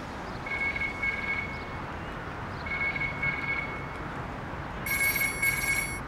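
A phone rings with an incoming call in a quiet room: a repeated electronic ringtone sounds in several short bursts, fairly clear and alone with no talk over it.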